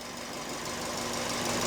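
A Fiat 500 1.4L engine runs steadily after a long period of sitting, settling into a smoother idle with an even, moderate hum and rhythmic low pulsing, close and without talk.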